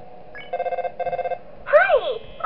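A telephone rings in the horror video game Five Nights In The Underground, giving two bursts of rapid bell trills, loud and close. Electronic tones and a voice follow at the end.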